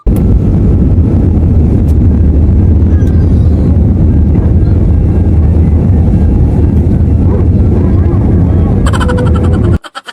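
Cabin noise inside a Cebu Pacific airliner during takeoff: a loud, constant low roar of engines and airflow fills the cabin without letup, then cuts off abruptly near the end.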